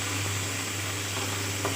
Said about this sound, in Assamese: এই বিলাহীখিনি মই ভালদৰে ভাজি ল'ম যেতিয়ালৈকে বিলাহীখিনি ভালদৰে গলি নাযায়